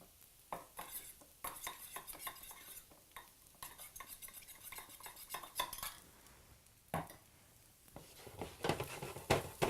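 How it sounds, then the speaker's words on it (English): Grated ginger and soy sauce mixed in a bowl, heard as quick, fairly faint clinks and taps of a utensil against the dish in an uneven stirring rhythm, with a soft sizzle in the background and no talk. "we have some grated ginger and soy sauce that I'm going to mix together in a bowl"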